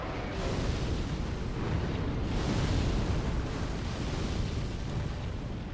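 In Dark Souls 3, a fire attack erupts with a continuous, loud roaring rush and rumble that swells slightly midway and holds for several seconds without a break.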